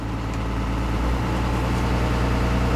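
A bus engine idling at about 1200 RPM in cold weather, a loud, steady low diesel rumble with a fine rhythmic pulsing, close up and unbroken throughout.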